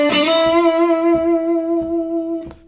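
A single sustained electric guitar note with distortion rings out and slowly decays, its pitch wavering gently with vibrato near the end.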